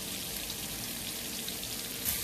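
Butter sizzles and crackles steadily in a hot pan while teriyaki beef short plate is being cooked, a dense hiss with fine popping that stays even throughout, with no talking over it.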